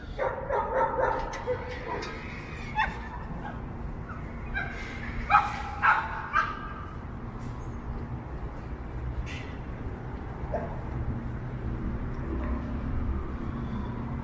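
Several small dogs bark and yip intermittently at a small outdoor dog park in Toronto, some near and some farther off, with a steady background hum.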